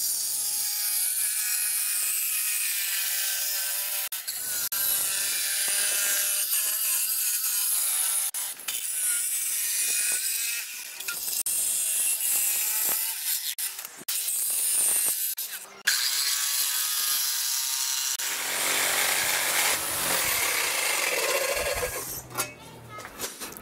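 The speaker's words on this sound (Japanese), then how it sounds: "板厚が2ミリなのでジグソーで切るのが一番楽ですね。" A jigsaw cuts through 2 mm thick sheet metal plate for a carburetor box. It rasps loudly and steadily, with short pauses and shifts in pitch as the blade works through the plate.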